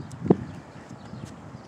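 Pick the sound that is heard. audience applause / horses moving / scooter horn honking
horses moving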